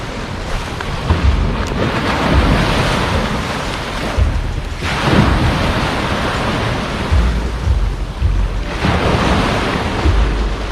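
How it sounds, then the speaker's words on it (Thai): Stormy sea waves crash in loud surges at night on Bang Saen beach in Chonburi, with heavy wind buffeting the microphone and rain falling, three big breaking swells rolling through the steady roar. "บรรยากาศทะเลตอนคืนครับ ฝนตกปล่อยๆครับผม"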